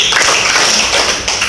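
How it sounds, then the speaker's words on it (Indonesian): Students in a classroom game clap together twice on cue, a dense, close burst of many hands striking at once that fills the room, with no talking over it. "Ya, tepuk 2 kali."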